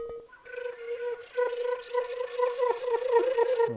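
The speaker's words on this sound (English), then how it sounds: "This is a flower pot played with yarn mallets" Flower pot struck with soft yarn mallets, a steady run of mellow pitched taps ringing with a clear tone, close and moderately loud, ending abruptly.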